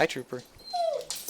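A needy Belgian Malinois whimpers and yips close by, a short rising-then-falling whine after a person briefly greets the dog.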